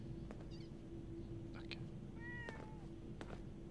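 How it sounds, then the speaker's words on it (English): A cat in Fallout 4's Vault 81 gives a short, faint meow amid a low steady hum and a few soft clicks, with no voices. "I hear a cat."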